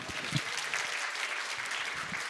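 Audience applause in a keynote hall at a finance and fintech industry conference, a steady dense wash of clapping hands lasting the whole stretch, with no voices over it.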